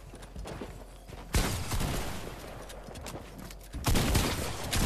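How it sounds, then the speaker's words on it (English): Two sharp, distant-sounding gunshots from a Fortnite match crack out a few seconds apart over a low, steady bed of game ambience. "Hitting him with drop shots left and right."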